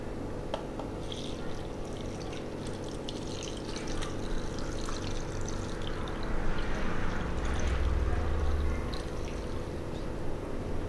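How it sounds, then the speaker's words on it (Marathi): Water poured into a pan holding a Khandeshi dal gandori mixture of lentils and chopped green chillies, a steady close splashing and trickling that swells midway over a low constant hum. "आणि आता यामध्ये पाणी टाकायचं आहे।"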